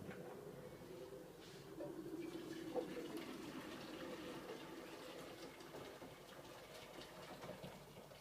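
Tap water runs steadily into a large pot for gnocchi, a faint, continuous rushing splash in a kitchen.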